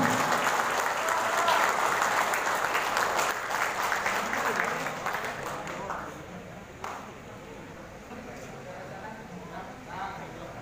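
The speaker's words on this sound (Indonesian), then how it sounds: "Beri tepuk tangan yang meriah." An audience at an Indonesian political party gathering in North Sumatra claps loudly and steadily, the applause fading somewhat after a few seconds but continuing.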